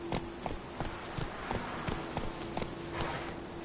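Horse hooves clip-clop at a steady walking rhythm, the mount Roach in the video game The Witcher 3, moderately close with regular beats over a faint ambient bed.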